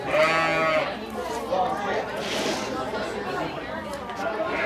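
Several sheep of different breeds bleat nearby at a sheep shearing festival, one loud wavering call at the start followed by overlapping bleats and a murmur of people talking.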